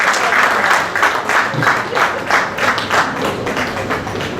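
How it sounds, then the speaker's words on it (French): An audience at an awards ceremony breaks into steady, dense applause, a loud, continuous wash of many clapping hands with a faint rhythmic pulse and a few voices beneath. "ne résistez pas à l'acclamation, ne résistez pas aux ovations"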